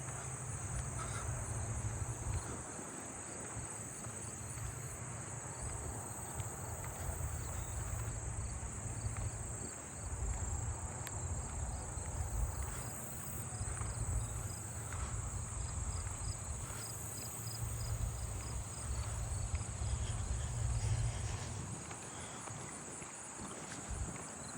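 Fall field crickets chirping in a neighbourhood field, a continuous high trilling chorus at moderate distance with some wind and low rumble underneath, no speech.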